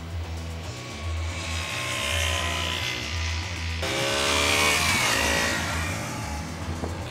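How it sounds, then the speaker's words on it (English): KTM 125 Duke 125cc motorcycle engine while riding, a buzzy single-cylinder drone that steps up through revs, dips at a gear change, then climbs again, with wind rush over it. "How's that for a 125cc motorcycle?"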